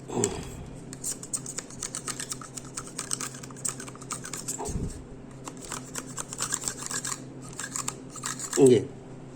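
Scissors being twisted to bore holes in a PVC pipe to make a flute, heard as a run of scraping, clicking cuts with a sharper crunch near the end.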